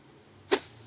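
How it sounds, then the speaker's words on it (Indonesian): A single quick whoosh effect from the KineMaster app, in its middle-high variant, sweeps past in a sharp, airy burst about halfway through and is otherwise surrounded by near silence. "misalnya saya pilih ini whoosh ya,"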